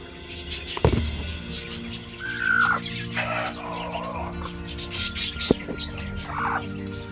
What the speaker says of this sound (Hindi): ये मुर्गी को इस पे छोड़ देते हैं।